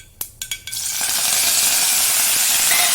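Curry leaves hit hot oil for garlic chutney: a few sharp crackling pops and clinks come first, then a loud, steady, hissing sizzle takes over and carries on.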